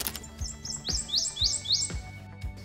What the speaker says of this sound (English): What a gorgeous little bird.